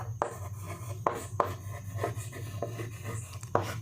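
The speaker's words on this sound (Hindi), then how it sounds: "सो कहाँ पे लिखूँ मैं कि आपको दिखे, यहीं पे लिखती हूँ बेटा" A teacher writes on a board in a classroom, with a chalk or marker tapping and scratching in short strokes over a low steady hum, and a few sharper knocks.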